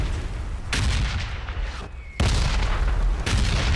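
Red zone bombardment in PlayerUnknown's Battlegrounds brings loud, booming explosions, with two or three heavy blasts landing seconds apart. Each one leaves a rumbling tail, and there is no talk over them.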